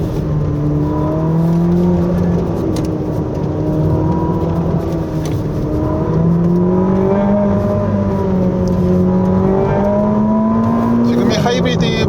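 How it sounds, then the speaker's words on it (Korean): A Ferrari SF90 Stradale V8 engine, in hybrid mode, rumbles and revs loudly and close, its pitch rising and falling steadily throughout with no pauses, on a winding road. "8기통 엔진 소리가 내는 이 노트가 굉장히 사람을 흥분시킵니다."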